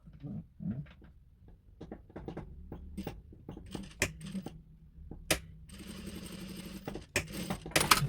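Sewing machine stitching a denim work jacket seam indoors, irregular clicks and taps leading into a short busy run of rapid stitching, then more scattered clicks, fairly quiet.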